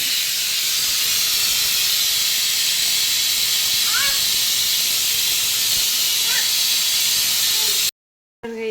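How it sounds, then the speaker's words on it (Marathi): Baati dumplings fry in hot oil, giving a loud, continuous hissing sizzle with a few faint squeaky tones over it before it cuts off abruptly near the end. "इकडे छान असे बट्ट्या फ्राय करून झालेली आहे तुम्ही बघू शकता इकडे अजून टाकलेले आहेत आवाज बघा"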